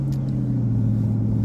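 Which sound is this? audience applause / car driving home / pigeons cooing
car driving home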